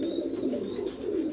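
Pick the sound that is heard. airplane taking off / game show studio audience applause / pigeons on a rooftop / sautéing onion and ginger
pigeons on a rooftop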